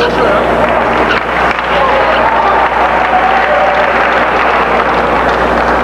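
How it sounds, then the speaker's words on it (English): A large crowd of Ateneo fans applauds and cheers in a loud, continuous roar inside an arena at a 1985 UAAP basketball game, UE vs Ateneo, with a commentator's voice running over it. "gets a round of applause from the Ateneo fans"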